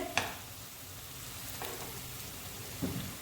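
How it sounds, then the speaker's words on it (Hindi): Potato and semolina snacks frying in hot oil, a soft steady sizzle with a few brief clattering touches, quiet and close with no talking. "क्रिस्पी होने तक आपने इसे फ्राई करना।"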